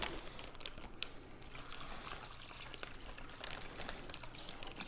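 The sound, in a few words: pouring non-chlorinated water into a bag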